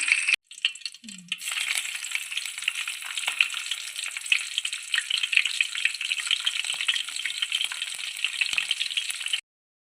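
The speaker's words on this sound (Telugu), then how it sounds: "జీలకర్ర వేగాక ఇప్పుడు ఇందులోకి ముందుగా కట్ చేసి పెట్టుకున్న పచ్చిమిర్చిని యాడ్ చేసుకోవాలి." Green chillies dropped into hot oil with cumin seeds, a bright crackling sizzle that starts with a clatter and burst, then holds loud and steady for several seconds before cutting off.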